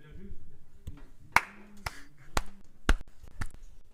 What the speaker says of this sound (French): Les applaudissements de Benjamin, je m'applaudis pas tout seul.